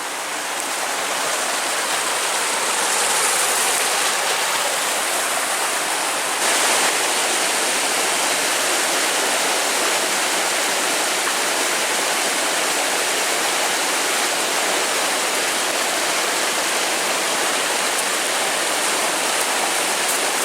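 Steady broadband rush of a stream splashing and churning close by as someone wades along its bed on a bushcraft outing on Réunion, constant and loud throughout with no talking.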